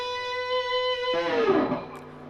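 A difficult run from a guitar solo on distorted electric guitar, a held high note breaking into a rapid descending flurry of notes that decays, moderately loud with no talking.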